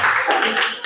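A group clapping hands in a classroom, short bursts of claps close by mixed with voices talking over them.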